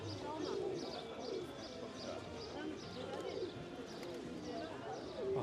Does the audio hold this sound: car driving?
no